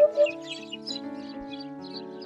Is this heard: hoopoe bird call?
yes